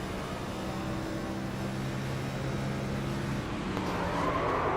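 A race car engine drones steadily from the cockpit view in a sim racing game, its sustained tone holding at moderate loudness before shifting pitch near the end, with no one speaking.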